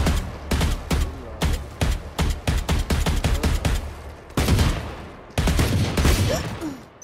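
Rapid gunfire from a shooting video game rattles out in quick bursts of sharp, loud shots, with short gaps and denser volleys toward the end; no voices.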